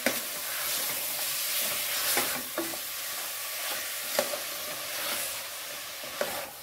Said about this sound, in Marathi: आता हे फोडणीमध्ये ना मटण छान परतून घेऊया।